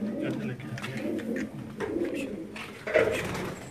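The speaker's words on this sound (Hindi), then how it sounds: "आइए दस्तगीर भाई दूसरे केज में चलते हैं वहाँ ना कुछ खानों में बिठाएं कबूतर ठीक है।" Racing pigeons coo nearby in a loft, in soft, overlapping low warbles that repeat steadily, with a faint murmur of background activity.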